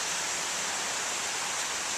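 Creek water flowing steadily beside a wooded landing, a continuous broad rushing wash with no breaks, close and fairly loud.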